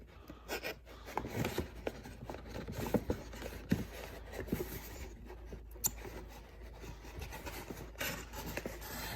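Vinyl wrap film is cut to size for a car's gear shift cover, producing faint, close scratchy rasping and rubbing strokes with small irregular clicks at a soft level.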